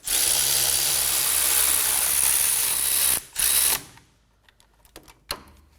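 A ratchet snugs the hub assembly bolts on a 2016-2020 Kia Sorento during a front wheel bearing replacement: a close, steady mechanical whir for about three seconds, a short second burst, then a few sparse clicks.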